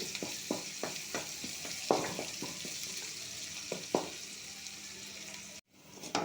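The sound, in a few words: onions frying in a pan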